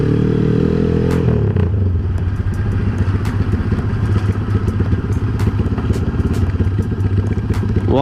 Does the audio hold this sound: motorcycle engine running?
yes